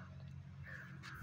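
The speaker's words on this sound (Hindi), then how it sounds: "तो यहाँ पर कौवे भी बहुत सारे होते हैं," A black crow caws outdoors, giving a few harsh, fairly faint calls over quiet background noise.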